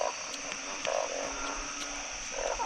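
Frogs croak while villagers catch them, a faint scatter of short, repeated croaks over a steady hiss of background noise.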